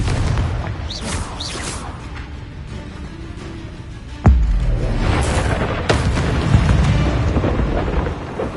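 A sudden booming blast from the Confringo spell in a Hogwarts video game, one sharp loud burst with a rumbling tail, amid other game effects and a faint voice.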